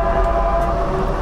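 A Caltrain locomotive in the Train Simulator 2018 video game sounds a short horn honk at a level crossing, steady tonal blare over low rumbling train noise, lasting about a second with no talking.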